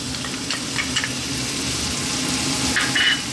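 Onions and garlic frying in sunflower oil over lively heat, a steady close sizzle with soft crackles throughout and no talking.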